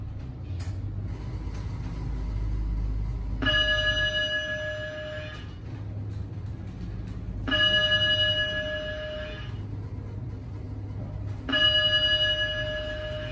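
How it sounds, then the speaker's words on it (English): Inside a Schindler 3300 machine-room-less elevator at a mall department store, the alarm bell rings in three separate bursts of a few seconds each, loud and metallic over a low background hum. "We'll ring the alarm in respect for Felicia"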